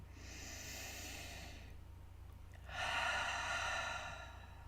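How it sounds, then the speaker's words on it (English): A slow, deep breath drawn in and let out during a calm relaxation exercise, heard as two long soft airy hisses, the second louder and fuller, against a low steady hum with no talking. "Another nice deep breath in and out."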